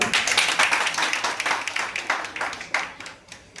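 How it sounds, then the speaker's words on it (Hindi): A crowd claps for the dance award winners at a dance studio in Sheikhpura, a lively burst of many hands with uneven sharp claps that gradually thin out toward the end. "इनकी एक बार जोरदार ताली"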